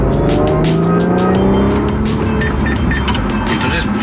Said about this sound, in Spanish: ahorita vamos a hacer una prueba de aceleración para que vean